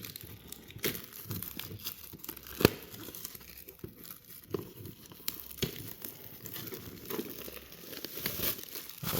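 Plastic wrap on a Pokémon Elite Trainer Box is poked through and torn open, giving a quiet, continuous crinkling and tearing with scattered sharper rips, close by and without talk.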